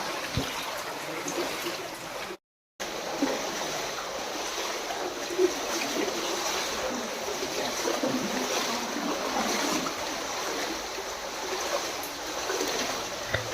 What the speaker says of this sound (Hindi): पानी की ये कलकल लहरें इस सफ़र को और भी रोमांचित करती हैं